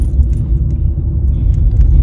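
A boot truck's engine idling on a city street, a close, steady low rumble with slight surges and a faint metallic jingle on top.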